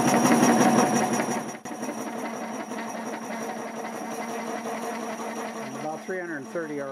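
A wood lathe spins a red cedar blank mounted on a hot-glued glue block at about 400 RPM, giving a steady, close motor hum. A voice comes in briefly near the end.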